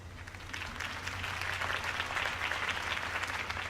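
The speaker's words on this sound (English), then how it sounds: "If only Mr. Wayne, my campaign's largest backer, could have heard that applause" A crowd applauds after a political campaign speech in a Batman video game, a dense steady wash of clapping swelling slightly and holding, fairly loud with no talking over it.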